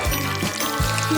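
Watermelon juice pouring from a tap fitted into the fruit and filling a glass, a steady gurgling stream with rising pitch, close and clear, with no voices.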